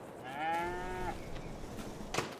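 Cattle mooing in Farming Simulator 22 inside a custom cow pasture on the Hessen Farm map. One drawn-out moo rises and falls in pitch, followed by quiet ambient farm background with a brief soft thump near the end.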